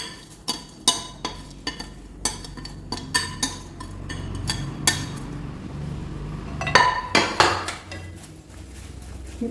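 Jackfruit seed chips are stirred into a sticky chikki mixture in a pan, producing a steady series of sharp metallic knocks and scrapes from a spoon against the pan, close and fairly loud, with a brief busier flurry near the end.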